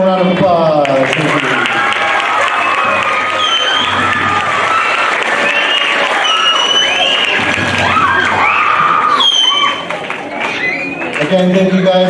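An audience at a middle school spring band concert applauds and cheers for a student, with shouts and voices mixed over the clapping throughout, then a short lull before the noise picks up again.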